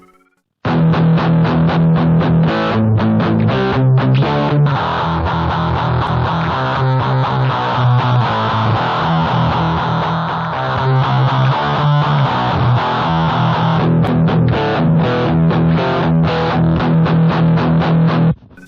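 An electric guitar plays through an amp, a steady run of chords and single notes with a warm, slightly driven tone, continuous and up close.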